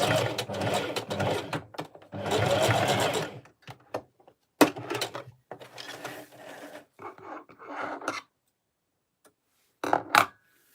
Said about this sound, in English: today I'm making a wig on a sewing machine